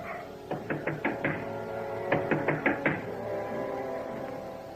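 Knocking on a wooden door for a radio drama sound effect comes as two quick bursts of about five raps each, separated by a pause, clear and close against a quiet background.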